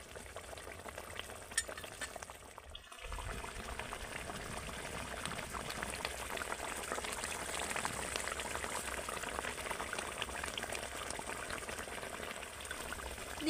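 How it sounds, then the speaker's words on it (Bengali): Vegetarian banana-based fish-style curry gravy bubbling in a pan, a steady dense sizzling and simmering hiss after a brief quieter moment with a clink near the start, continuous and close. "মাছগুলো দেওয়ার পরেও কিন্তু ঝোলটাকে একটু ফুটিয়ে নিতে হবে"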